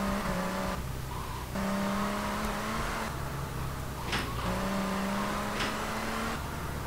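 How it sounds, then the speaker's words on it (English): A car is driven in the video game GTA: Vice City Stories. Its engine whines and climbs in pitch, then drops with each gear shift, and a few short tire squeals cut through the steady driving noise. "Get in the vehicle before anything happens."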